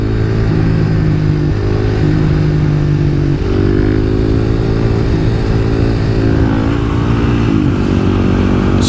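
A Kawasaki KLX300 dirt bike is ridden to a quarry. Its engine drones loudly and steadily up close, with throttle shifts and gear changes rising and falling in pitch, and no voices are heard.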